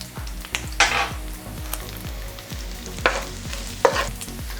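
Garlic frying with pieces of pork in a hot pan gives a busy crackling sizzle, with repeated scraping stirs and rhythmic spatula knocks against the metal, close and fairly loud.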